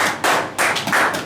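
A church congregation claps together in loud, sharp bursts, a few rhythmic waves of applause in quick succession with no talking.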